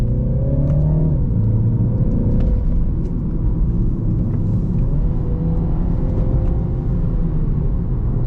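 A 2024 Mini Clubman with all-wheel drive drops through the gears on a winding road, its loud, close engine drone rising and falling steadily throughout with no voices heard.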